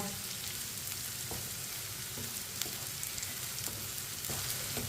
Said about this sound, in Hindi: इसे चम्मच चलाते हुए पकाना है, चम्मच छोड़ना नहीं है